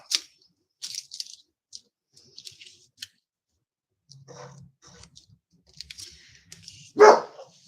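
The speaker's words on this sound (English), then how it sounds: "Oh, apologize for the dog." Dog barks a few scattered times indoors, faint and intermittent amid clicks and quiet handling sounds, ending with a louder bark near the close.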